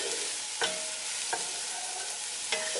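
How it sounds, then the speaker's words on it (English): Red lentil dhal ingredients with pungent ginger fry in a pan, a steady close sizzle broken by three short stirring scrapes, with no talk. "I'm going to fry this off until it becomes slightly translucent."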